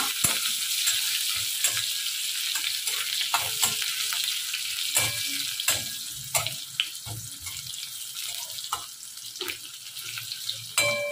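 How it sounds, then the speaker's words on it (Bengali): Onion frying in hot oil with whole cumin and spices for a home-cooked goat meat curry: a steady close sizzle runs through, broken by scraping stirs and clinks. No one speaks. "ফোড়ন থেকে গন্ধ ছাড়ছিল সুন্দর, আর পেঁয়াজটা দিয়ে দিলাম।"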